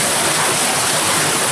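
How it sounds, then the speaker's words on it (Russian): Water from the Yauza river gushes through a hole into an underground Moscow sewer collector, a loud, close, unbroken roaring splash that fills the space without pause. "вот эта вот струя, которая плещет справа, это на самом деле образовавшаяся дыра в коллекторе из Яузы"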